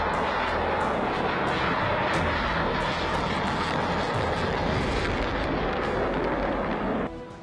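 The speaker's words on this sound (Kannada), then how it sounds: "ಇವತ್ತು ಕೂಡ ಆಗಸದಲ್ಲಿ ಯುದ್ಧ ವಿಮಾನಗಳು ಮೈನವರೆಳಿಸೋ ಸಾಹಸ ಪ್ರದರ್ಶನ ನೀಡಿದ್ವು" Fighter jets roar overhead during stunt displays at an air show before a large crowd, a loud continuous engine rumble that holds steady for several seconds and then drops off suddenly near the end.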